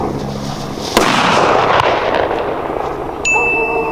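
A firework mortar shell coated in armored paint goes off with a sharp, loud blast, followed by a long hissing, crackling wash of debris and a faint metallic ring near the end.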